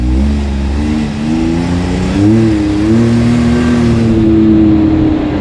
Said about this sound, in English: This thing really cranks out the RPM